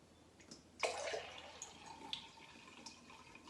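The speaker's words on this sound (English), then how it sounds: "I've got this big glass here and I'm going to show you, I'm only going to pour a small amount. This is sparkling water." Sparkling water being poured in a small amount into a big glass, a short splash followed by a quiet fizzing and trickle, close and fairly soft with no talking.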